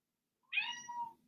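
A single clear meow from a house cat indoors, rising sharply then trailing into a softer drawn-out tail, close and moderately loud with no talking.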